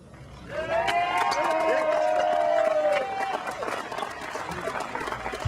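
A large outdoor political rally crowd cheers, whoops and applauds for two radio hosts being introduced. The roar swells quickly, holds loud for a few seconds, then eases into scattered clapping and chatter, with a shouted voice rising above it.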